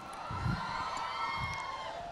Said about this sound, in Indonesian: kasih tepuk tangan dong buat Dika